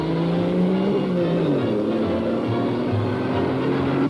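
Mercedes race cars in the Mille Miglia road race across Italy roar steadily and loudly, engine pitch shifting and sliding as the cars run at speed.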